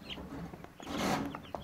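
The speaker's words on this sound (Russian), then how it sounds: "Это цыплята бройлера." Broiler chicks peep in a small group, with soft clucking and scattered chirps up close, quiet and brief.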